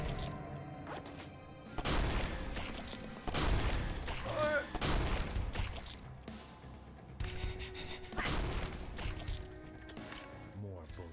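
Call of Duty gunfire in bursts, with repeated loud crashing volleys and impacts over a steady game background, while a voice talks over it.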